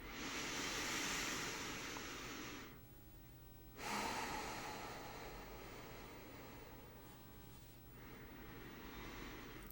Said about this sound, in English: Take 3 nice deep breaths.